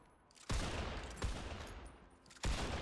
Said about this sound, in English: I'm on back left and shooting there, nothing's happening.